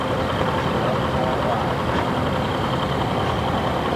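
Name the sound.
English-made tractor engine running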